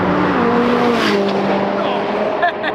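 A McLaren 570 laps the Utah Motorsports Campus track, its engine a loud, steady roar with shifting pitch as the car passes, broad road and tire noise throughout, and a brief change near the end.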